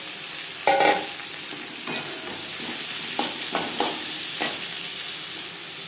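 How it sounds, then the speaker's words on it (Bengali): Onion and tomato fry in fresh oil in a wok already used for frying fish, giving a steady close sizzle broken by a few sharp spatula scrapes and clinks against the pan. "মাছ ভেজে নেওয়া কড়াইতে আবারও তেল দিয়েছি দিয়ে দিলাম পেঁয়াজ টমেটো"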